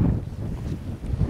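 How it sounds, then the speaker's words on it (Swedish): Gusty wind of a snowstorm buffets the microphone in a steady low roar, swelling and easing in short surges with no one speaking. "Blåsten börjar tillta och det börjar bita i kinderna."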